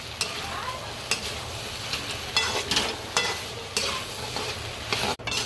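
Spring roll filling mixture being stirred in a pan with a spoon, scraping clicks and knocks recurring every second or so over a steady frying sizzle.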